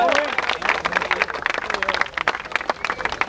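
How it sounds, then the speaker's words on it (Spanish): Crowd applause at a freestyle rap battle tournament, dense sharp claps with cheering and shouting voices mixed in, loud and lively throughout. "¡Aplausos!"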